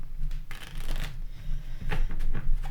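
Tarot advice cards being shuffled close by, a continuous papery riffling and flapping with a few brisk bursts, loud and alone.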